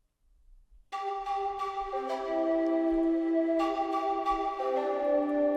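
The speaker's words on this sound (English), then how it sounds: "some pan pipes and an ocarina" Breathy pan pipes and an ocarina from a free sample library play together, starting after a brief near-silence and then holding sustained, layered tones with slow note changes, with no talking.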